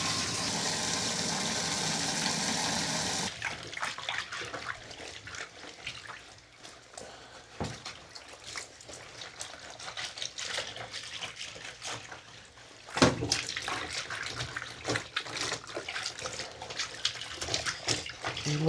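Water sprays and splashes over motorcycle gear while it is washed, opening with a strong continuous hiss that cuts off, then irregular splashing and dribbling, with another loud burst of spray partway through.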